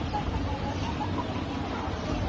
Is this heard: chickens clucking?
yes